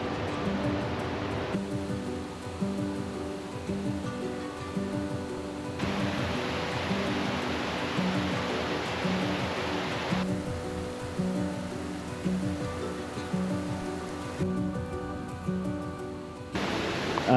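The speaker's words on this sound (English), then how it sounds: "I can see the waterfall." Constant broadband rush of a large waterfall in a national park in northern Thailand, steady and moderately distant, with shifting wind buffeting and no voices.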